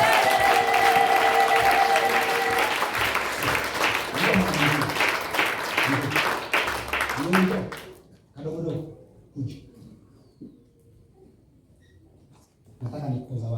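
A church congregation at a prophetic service claps together in loud dense applause for several seconds, then it cuts off and a voice speaks over a quiet room with a last burst of clapping at the end.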